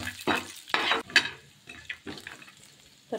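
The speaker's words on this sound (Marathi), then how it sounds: "आता टाकूया थोडी शेंगदाणे पण चांगले मस्त फ्राय करून घ्यायचे" Peanuts fry with onion in a hot pan, giving a steady sizzle broken by several scraping, clattering stirs of a spoon against the pan, close and fairly loud.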